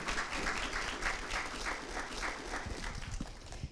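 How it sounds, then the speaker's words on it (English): Steady audience applause fills a leadership speaker series event, dense and continuous for several seconds at moderate distance, with no voices over it. "if we could give them a round of applause for taking their time."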